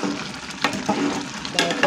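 A spoon stirs ingredients roasting in a pan, with soft sizzling under a few distinct scraping strokes, close and alone.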